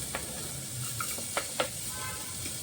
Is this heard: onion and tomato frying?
yes